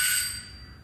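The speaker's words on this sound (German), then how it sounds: "Es klingelt an der Tür" A bright, single electronic doorbell ring from the video game Orphans chimes briefly and fades, clear and alone.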